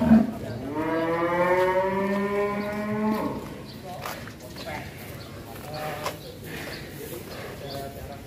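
A loud, close cow moo opens the clip, long and drawn out, inside a large two-storey cattle barn holding over a thousand cattle, followed by fainter barn noise and people talking.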